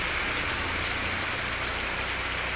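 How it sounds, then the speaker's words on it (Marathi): Heavy monsoon rain pours down in a loud, dense, unbroken roar, close and constant throughout, in Vaibhavwadi, Konkan. "पाऊस तर काय आज थांबण्याचं नाव घेत नाही आहे"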